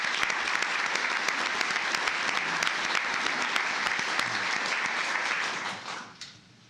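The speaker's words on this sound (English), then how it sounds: "I think we all owe her a very, very big round of applause" An audience at a commissioners court meeting gives a long round of applause for a retiring employee, with dense, sustained clapping that fades out near the end into a quiet room.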